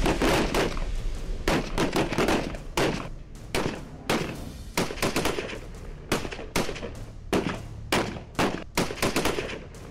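Sustained gunfire from an Indian Army special operation against militants, with dense bursts of rifle and machine-gun shots cracking in rapid, irregular volleys throughout, loud and close, with no talk.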